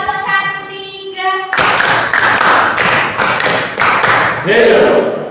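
A school class claps a rhythm pattern together in a classroom, a short run of loud, evenly spaced group claps in a steady beat, preceded by a brief tonal sound.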